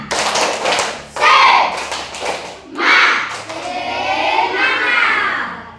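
A classroom of children performs a scout-style rhythmic spirit clapping pattern, bursts of loud group claps separated by brief pauses, mixed with children's shouting and chatter.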